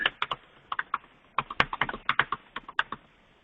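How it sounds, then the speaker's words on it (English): Quick bursts of typing on a computer keyboard, close and fairly quiet, with irregular clusters of key clicks separated by a short pause and no talking. "we'll type it out again real quick"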